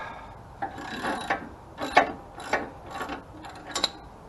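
A ratchet wrench works a Loctite-seized brake caliper bolt on a Ford Mustang, giving close, repeated bursts of rasping clicks in short strokes with brief pauses between them.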